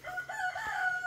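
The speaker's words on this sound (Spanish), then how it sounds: "Mi gallito aún no queda de su garganta" A young rooster on a ranch crows in one drawn-out, slightly strained call lasting about a second, close and fairly clear against a quiet outdoor background.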